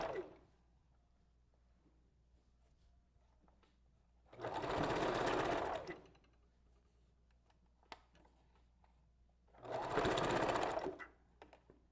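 Sewing machine stitching hair bundles onto a wig, two bursts of rapid whirring stitching, each about one and a half seconds, close and clear, separated by quiet pauses with faint clicks.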